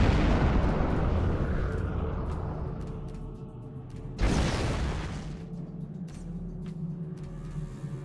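Big, sudden explosions in a video game roll out as a dense, loud rumble, with a second heavy blast bursting in partway through and fading into low background noise.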